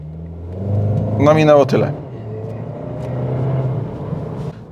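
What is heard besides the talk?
Skoda Karoq 2.0 TSI accelerating from a standstill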